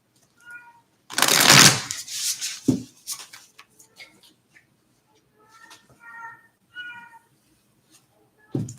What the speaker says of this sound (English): And I'm so sorry if you can hear my cat.